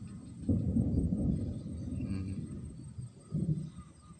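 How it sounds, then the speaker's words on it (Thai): Evening thunder rolling in over a darkening sky, low heavy rumbles swelling and fading in a long uneven stretch, fairly distant with no talk. "ฟ้าร้องคึงคึงเลยครับ"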